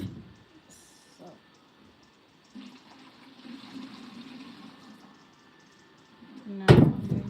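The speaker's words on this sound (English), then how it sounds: "now I'm going to water here, the rose" Water is poured onto a rose plant in a garden, a soft uneven trickle that swells in the middle, then a louder splashing gush near the end, with quiet background sounds throughout.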